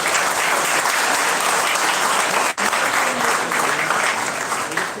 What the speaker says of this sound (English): please have a round of applause for the members